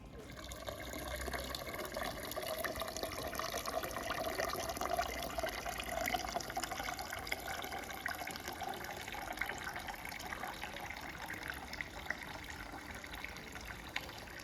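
Spring water pours into a large jug, a steady low-level gurgling fill that continues evenly without pause, faint and close, with no voices.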